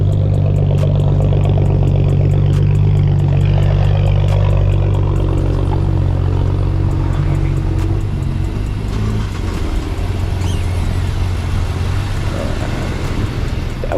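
A BMW car engine at an auction idles steadily, a loud, close low rumble with a constant throb and slight variations in tone throughout, no voices.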